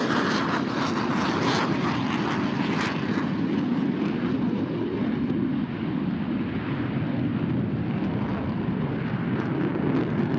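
F-18 fighter jets in opposing horizontal rolls at the NAS Oceana air show, heard as a loud, sustained jet roar that is harsher at first and then settles into a steady rumbling wash of engine noise.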